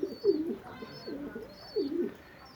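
Soft, low pigeon cooing, two rolling coos repeated close by, with faint higher chirps in the background.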